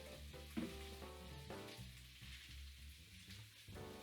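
Jalapenos fry in canola oil in a pan, giving a steady, fairly quiet sizzle and crackle with a low hum underneath.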